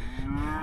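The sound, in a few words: cows mooing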